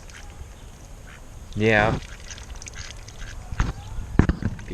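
Ducks quack in a short burst beside a backyard pool, a loud honking call followed by splashing and light knocks, with someone speaking briefly nearby.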